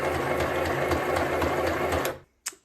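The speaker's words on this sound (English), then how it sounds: "I'm gonna also do a little zigzag stitch just to see what that looks like" A small Stoigeld SM-725 beginner sewing machine running a zigzag stitch, a fast even mechanical rattle close by that stops abruptly near the end, followed by a couple of soft handling knocks.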